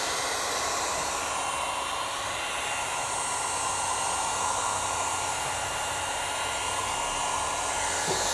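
A heat gun blows steadily while warming the edges of a Cybertruck pillar wrap, a close, continuous airy roar with a faint tonal whine and no break.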